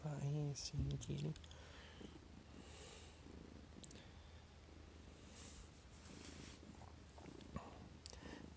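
A house cat purrs steadily and softly throughout, with a brief voiced cat sound at the start and faint talking in the background.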